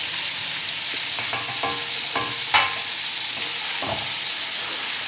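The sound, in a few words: frying marinated keema with tomatoes in a pan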